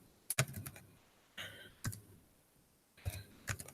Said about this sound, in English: That's why you hear me clicking the button,